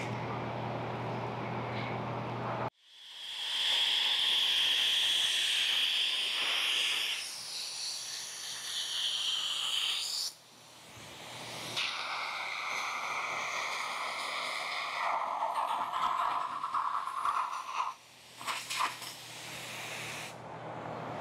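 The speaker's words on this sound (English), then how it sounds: "Alright, so I've sprayed pretty much everything out of the hopper." A hopper sprayer hisses loudly and continuously as it sprays SL1000 texture, with a compressor-like rush that cuts out briefly and restarts several times.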